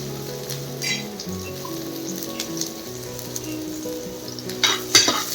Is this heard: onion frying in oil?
yes